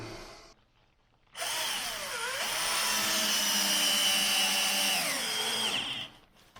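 A screwdriver drives self-tapping screws into old plaster during a restoration job. After a moment of quiet comes one continuous, close, loud whine lasting about five seconds, its motor pitch dipping under load and then rising again before it stops.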